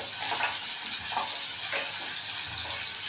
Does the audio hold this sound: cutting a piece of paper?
no